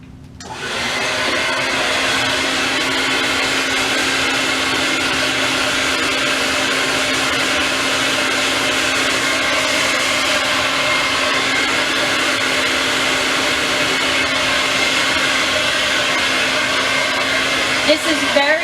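A hair dryer blows hair dry, starting with a click-on and then holding a loud, steady roaring whoosh close by for the whole stretch, with no talking over it.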